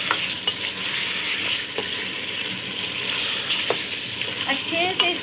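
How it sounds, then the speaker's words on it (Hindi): Beef sizzles in a pot while being browned for biryani, a steady close frying hiss broken by occasional scraping stirs and small clinks, with no speech. "तब तक ये मैं गोश्त को भून रही हूँ।"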